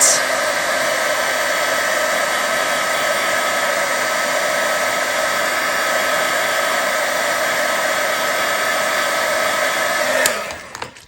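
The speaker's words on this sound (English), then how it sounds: "But if you heat set it with the heat tool, it will not smear afterwards." A heat tool blows steadily and loudly for about ten seconds while heat-setting stamped ink on a snowman shaker card, a constant whooshing roar that cuts off abruptly near the end.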